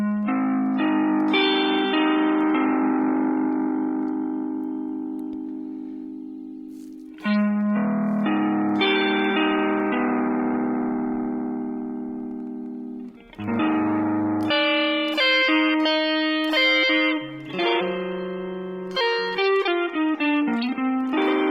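Sustained chords and ringing notes pass through a Hologram Chroma Console pedal set for lo-fi digital degradation. They are loud and alone, swelling and decaying over several phrases before quicker runs of notes.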